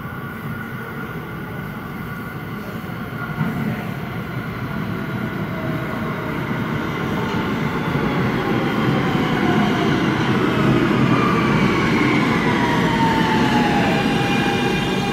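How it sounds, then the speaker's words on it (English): A New York City Second Avenue Subway train rumbles along the tracks with a steady mechanical roar, whining motor tones and faint wheel squeal, growing slightly louder as it runs continuously. "The Second Avenue Subway."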